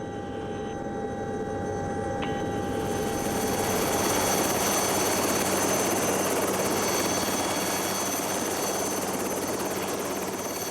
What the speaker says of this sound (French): Il faut poser l'hélicoptère sur une piste pentue, au milieu des sapins et des câbles.